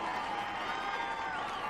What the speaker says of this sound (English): as the crowd reacts.